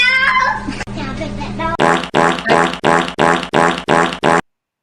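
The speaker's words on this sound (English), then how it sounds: "It's a fart." A looping fart sound effect plays loudly and close, a long fart followed by a rapid, evenly spaced run of about eight short repeated blasts that stops abruptly, with voices talking near the start.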